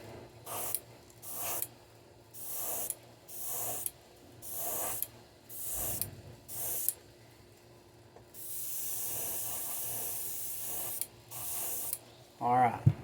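Short repeated bursts of an airbrush spraying paint while custom painting a crankbait lure, about seven evenly spaced hisses followed by one longer steady spray, close and clear.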